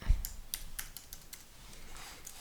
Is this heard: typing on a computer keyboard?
yes